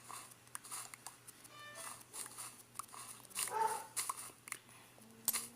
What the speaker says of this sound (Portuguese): Que cachorrinho chato.